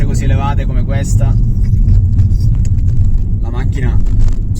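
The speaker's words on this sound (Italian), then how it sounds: "Anche in salite con pendenze così elevate come questa" A Ford Focus Mk4 ST Line 1.0 125 hp mild hybrid climbs a steep hill with a steady, loud low engine rumble inside the cabin, while someone talks over it throughout.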